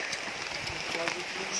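Heavy rain falling during a meal of native chicken adobo sa gata, a steady soft hiss of rainfall under people talking nearby.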